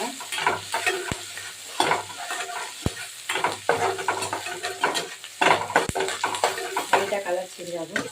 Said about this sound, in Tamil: வெங்காயம் போட்டு நல்லா வெங்காயம் லைட்டாக பொரியல் ஆகணும்.